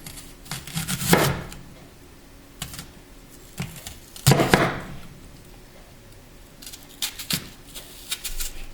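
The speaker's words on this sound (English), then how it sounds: "So just slice your onions." A knife slices onions on a cutting board in a kitchen, giving a few separate crisp cuts and chops spaced several seconds apart, close and fairly loud with quiet gaps between them.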